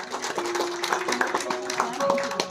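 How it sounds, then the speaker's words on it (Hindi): Scattered clapping at a school function in Hathras honoring parents, a loose uneven patter of hands in a room with people talking and a tonal sound running underneath. "जोरदार तालियां आप सभी की ओर से।"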